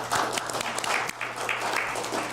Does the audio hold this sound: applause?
yes